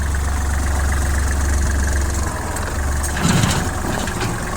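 A Kubota GL-21 tractor engine idles steadily and loudly close by, a continuous low rumble with a brief rougher surge late on, and no voices.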